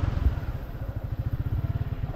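A motorcycle engine runs on a narrow residential lane, giving a steady, close, low throbbing putter with a quick rhythmic pulse throughout.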